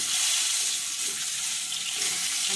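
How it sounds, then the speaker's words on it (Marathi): Oil frying in a pan with red chili powder and turmeric for boiled eggs in an egg dum biryani, a steady loud hiss and sizzle throughout, close and continuous with no voices. "फ्राय करून घेणार आहोत तेलामध्ये."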